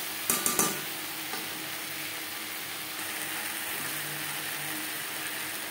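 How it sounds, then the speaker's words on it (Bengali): Eggplant, potato, salt, turmeric and spices are stirred for a katla fish curry, with a few sharp scraping clacks of a spoon against the pan at the start, then a steady soft sizzle running underneath. "লবণ, হলুদ, বেগুন, আলু ও মশলার সাথে বেশ ভালো করে মিক্স করে দেবো।"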